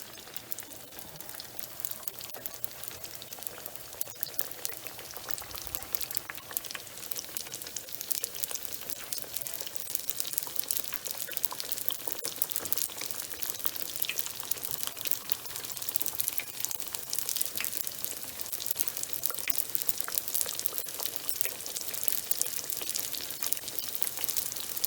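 Small rounds of fried pizza dough sizzle and crackle in hot oil on medium-high heat, a dense, steady spattering hiss that holds for the whole stretch with no talk.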